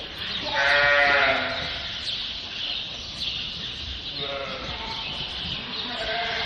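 A ewe lamb in a pen gives a loud, nearby bleat, then a second, softer bleat follows a few seconds later over a steady farmyard background.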